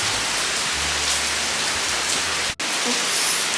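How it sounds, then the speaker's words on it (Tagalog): Heavy rain falling outdoors in Phuket, a steady loud hiss of downpour that fills the whole stretch, with a brief dropout near the end and no talking. "Tayo ngayon sa labas at ang lakas po ng ulan."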